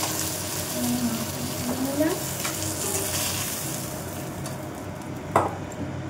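Steady sizzling of fish frying in hot oil in a Kolkata home kitchen, with occasional stirring scrapes and faint background voices.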